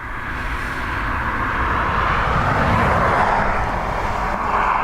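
Emirates airliner at Dublin Airport, a steady broadband engine roar that stays loud and continuous throughout, with no voices over it.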